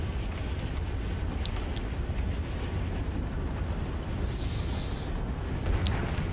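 Explosions from Hellcats attacking ground targets over Saipan in a flight video game, a constant distant rumbling roar of blasts under steady engine and wind noise, fairly faint.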